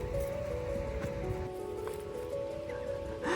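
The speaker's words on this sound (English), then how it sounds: "It's still raining" Rain patters on the ground and surfaces at a remote, storm-lashed beach in Norway, a steady close hiss with a low background rumble that may be surf, heard alone without voices.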